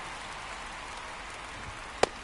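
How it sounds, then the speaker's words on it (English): Steady rain hisses across a ballpark in the MLB The Show 24 baseball game, a continuous even wash with one brief sharp tick near the end. "It feels like we might be headed towards a rain delay if the weather doesn't ease up, Chris."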